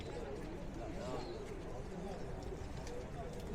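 Soft pigeon coos buried in a steady wash of outdoor noise and rain-like hiss, faint and continuous.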